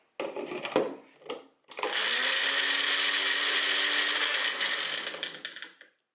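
A Magic Bullet blender straining on garlic, with a few short pulses followed by a steady high whirring motor run that holds for several seconds, then winds down.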